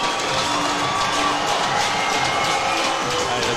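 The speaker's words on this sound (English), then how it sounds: "the crowd are loving that one" Ice hockey arena crowd at an NIHL game roaring and cheering over a player fight, a dense, sustained wash of voices and whoops throughout with no pauses.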